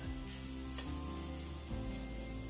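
Two whole rosemary sprigs sizzling in a pan of Bolognese sauce, a steady close frying hiss with a constant low hum running underneath throughout.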